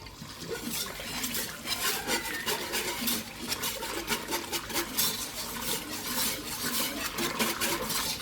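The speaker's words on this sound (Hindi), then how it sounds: "अब हम इसमें डालते हैं पानी।" Water pours into a besan mixture for kadhi, a steady splashing, trickling rush that stays close and moderately loud throughout with faint clinks of a utensil, and no one talking.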